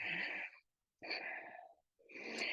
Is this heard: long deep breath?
yes